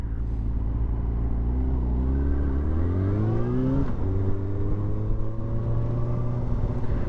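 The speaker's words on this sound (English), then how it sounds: "This is the last stretch of road on the R6." Yamaha R6 sport motorcycle on a road, its engine droning steadily with rising pitch as it accelerates, a brief dip at a gear change, then holding a constant hum; continuous and close.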